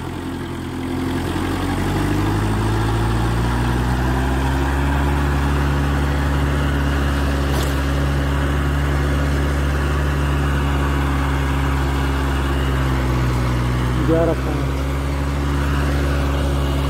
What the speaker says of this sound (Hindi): फुल लोड दे रखा रोटावेटर का पूरा डाउन